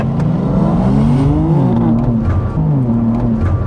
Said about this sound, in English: I'm going to push this little magic button here, which activates the extra loud exhaust.